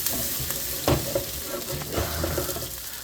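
Homemade tomato sauce sizzles in a pan for a salt cod (bacalla) sugo, a bubbling, spattering fry broken by a few louder stirring scrapes and clatters, close and fairly loud, with no talking.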